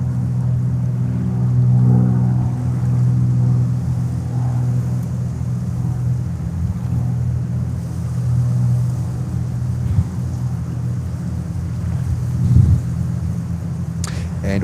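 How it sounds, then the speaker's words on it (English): A Cirrus SR-22 light aircraft takes off at JFK Airport, heard as a distant, low, steady engine drone that swells slightly in places, with faint background sounds. "SR-22 taking off? Sounds like a warbird."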